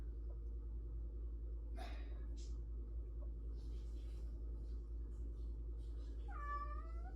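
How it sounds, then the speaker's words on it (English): A short cat meow rises near the end after a quiet stretch of low room rumble, with a brief soft noise earlier. "He's got a toy in his mouth and he's meowing with it in."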